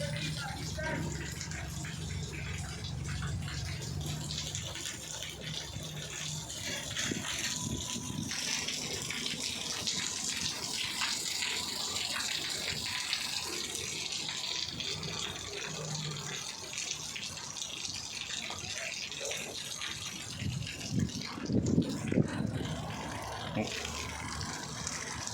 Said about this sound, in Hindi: बारिश हो रही है, बहुत ही प्यारा मौसम है